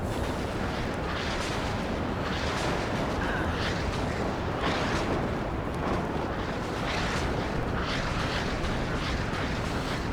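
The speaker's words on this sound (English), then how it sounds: "Nice artillery strike from my opponent here with this clumped up infantry" Artillery shells strike a city and clumped infantry in the real-time strategy game WARNO, producing a steady barrage of distant explosions and rolling rumble, with many overlapping blasts throughout.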